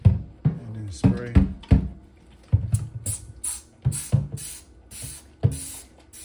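Several quick hissing squirts from a spray bottle refilled with dish soap, each with a click of the trigger, in an uneven rhythm mixed with light handling thumps.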